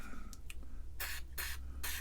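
Contact cleaner sprayed into the potentiometer of an Atari paddle controller, heard as three short hissing bursts in quick succession, close and fairly loud over a quiet background.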